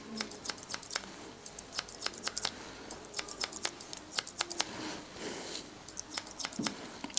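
Barber's scissors cutting hair, a quick series of crisp metallic snips in irregular bursts, close and fairly quiet over a soft room hiss.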